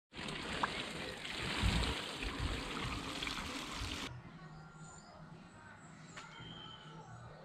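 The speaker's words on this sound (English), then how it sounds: "I'm now going to wash it out with soap and water, hot soap and water" Hot soapy water rushes and sloshes loudly inside a motorcycle fuel tank from an MZ TS125 for about four seconds, then cuts off, leaving a quieter background with faint trickling.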